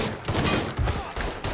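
Dense, chaotic gunfire rattles in a firefight in the video game Mafia 3 Definitive Edition, with loud overlapping shots and bursts coming in uneven waves and no clear speech.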